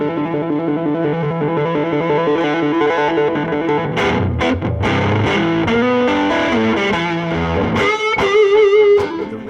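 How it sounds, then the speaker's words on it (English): Overdriven electric guitar through the overdrive circuit of a PRS J-MOD 100 amp, a full-bodied, Marshall-stack-like crunch, loud and continuous with sustained chords and a few sharp pick attacks, no talking. "When you click in the overdrive circuit, it's not the tube screamer sound that you get off of a pedal"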